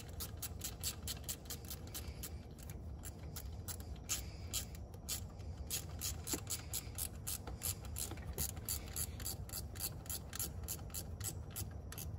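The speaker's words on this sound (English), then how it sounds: "tighten up this screw, or this bolt, I mean" A hand ratchet tightens a bolt on a 2014 Ram with a 6.7L Cummins diesel, giving a steady run of rapid, crisp clicks, quiet and close, with no talk.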